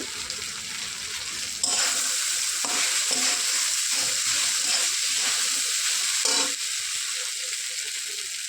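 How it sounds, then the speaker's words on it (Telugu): Flattened rice (poha) fries and sizzles in a pan, tossed with turmeric and salt for an upma breakfast, giving a steady bright hiss with soft stirring scrapes throughout, close and moderately loud with no talking. "పోహా వేసుకొని ఒక 20 or 30 సెకండ్స్ అలా ఫ్రై చేయాలి."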